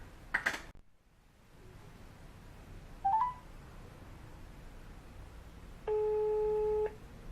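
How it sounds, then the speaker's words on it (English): A phone call connecting: a sharp burst, a brief electronic chirp, then a steady synthetic ringback tone of about a second over faint line hiss. "Now we are going to connect with her through a phone call."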